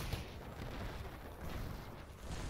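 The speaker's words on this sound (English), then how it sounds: "What's this explosion going on everywhere?" Explosions and gunfire in the Minecraft Blockfront multiplayer war game, a dense, moderately loud battlefield roar with rolling booms and crackling blasts blending together continuously.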